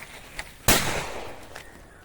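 A single loud firecracker bang goes off close by on a bean farm, set off to scare parrots away, with a sharp burst followed by a fading echo.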